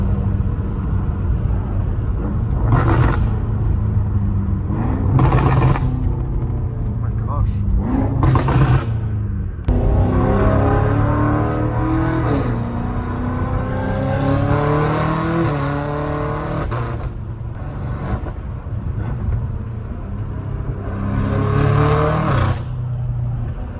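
A catless 650 hp BMW M5 Competition with a 4.0-liter V8 drones and surges through steady driving, revs climbing and falling in long waves, heard from inside the car while someone talks over it.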